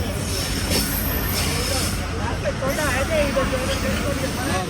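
Pakistani train pulling into a station, a steady low rumble of rail cars with faint squealing wheels beneath a crowd murmur and nearby voices talking.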